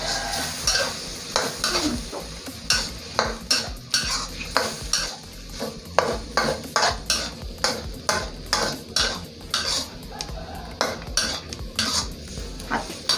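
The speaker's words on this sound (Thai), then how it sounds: "ก็ผัดไข่" Two eggs stir-fried in a pan for pad see ew: a rapid, rhythmic run of metal spatula clacks and scrapes against the pan over a continuous sizzle, close and busy throughout.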